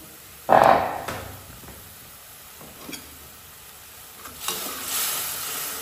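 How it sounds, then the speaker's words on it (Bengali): Spices frying in oil for a small river baim fish curry, a loud sizzling burst followed by quieter stirring scrapes and a soft steady hiss, with no talking. "এখন মশলাটাকে কিন্তু খুব ভালো করে কষিয়ে নেব"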